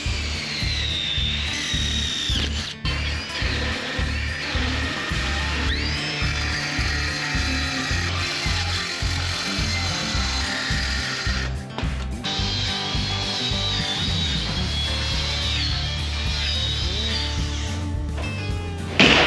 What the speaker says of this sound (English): So what we do is we cut a long notch into the top plate.